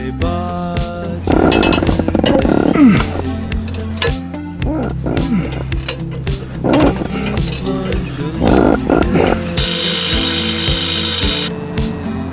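Power tool cutting through exhaust pipe during a 1978 Toyota Corolla EFI install, loud buzzing bursts over a steady low hum, stopping and restarting, with a sustained high hiss near the end and speech in between.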